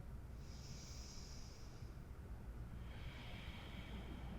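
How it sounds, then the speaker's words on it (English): Slow, rhythmic yoga breathing during a gentle practice: a soft, airy breath lasting about a second and a half, a pause, then a second longer breath, quiet and close with no talking. "Allow the breath to be rhythmic."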